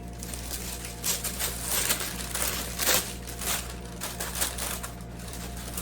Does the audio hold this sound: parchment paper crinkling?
yes